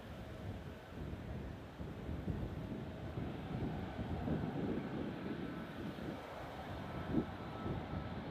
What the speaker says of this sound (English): This is gonna be a 757 heading over to JFK. It's gonna be taking off from here.